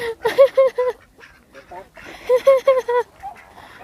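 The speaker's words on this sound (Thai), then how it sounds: "มีเป็ดเดินตามเต็มเลย" Two bursts of rapid, nasal quacking from several ducks, each a quick run of four or five calls, fairly close with quieter gaps between.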